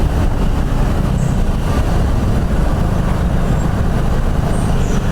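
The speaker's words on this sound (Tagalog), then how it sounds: "Ayan, matindi traffic dito" Heavy road traffic with buses and trucks rumbles loudly and continuously close by, a dense engine drone with faint brake hisses, heard from a motorcycle during rain.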